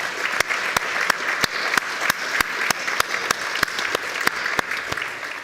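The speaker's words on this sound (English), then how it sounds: "let's give them one more round of applause" An audience at a university business college honors ceremony applauds steadily, a dense wash of many hands with a few sharp individual claps standing out, no voices.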